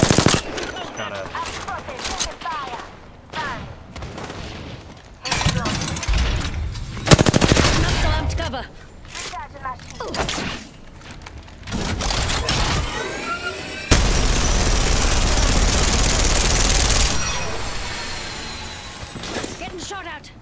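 Rapid automatic gunfire and single shots from an Apex Legends match crackle in bursts with loud sustained volleys, interleaved with a player's commentary voice.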